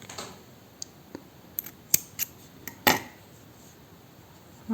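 Scissors snip through crochet yarn on a handmade Christmas angel, giving a few sharp, close clicks and snips spaced across a quiet background.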